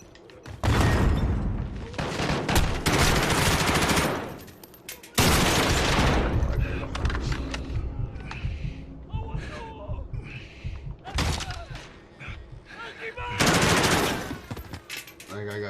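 Call of Duty gunfire: long, loud bursts of automatic weapon fire with booms and thuds between them, and a voice speaking under parts of the firefight.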